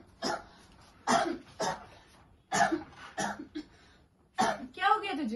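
A person coughs in repeated short bursts, several separate harsh coughs with brief pauses between them, close and clear, with no speech in between.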